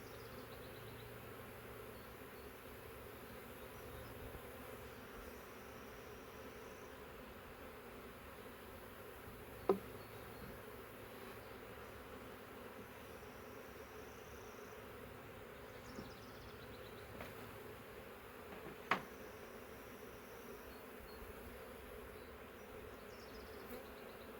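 A steady, low hum of thousands of bees buzzing in a caught swarm in a swarm trap fills the air, with a few faint clicks and taps now and then.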